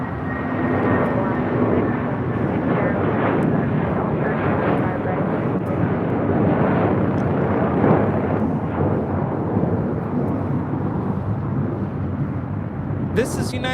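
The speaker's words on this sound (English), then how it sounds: "This is United Airlines 1069 taking off to Chicago O'Hare on the 757-300" A United Airlines 757-300 taking off from LAX toward Chicago O'Hare produces a sustained, swelling jet roar, fairly loud and rumbling, with talk layered over it.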